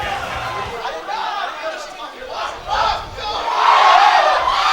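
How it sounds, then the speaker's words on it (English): Lively crowd at a Smash Ultimate doubles tournament with over 300 entrants, a dense roar of chatter, shouts and cheering that swells near the end, steady and fairly loud throughout. "we have a lively crowd out here today"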